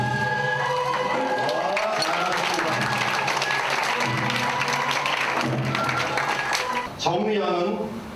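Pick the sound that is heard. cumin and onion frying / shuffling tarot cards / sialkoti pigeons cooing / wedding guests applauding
wedding guests applauding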